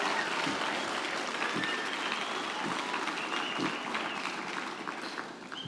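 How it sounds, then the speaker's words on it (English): Loud, sustained applause from a graduation ceremony audience seated in bleachers, a dense wash of clapping that stays steady throughout and fades slightly near the end. "Please give them a loud and noisy round of applause"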